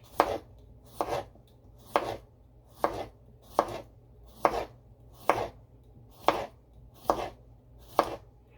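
A knife chops a cucumber into round slices on a cutting board, ten crisp evenly spaced chops, each about a second apart, close and clear with no talking.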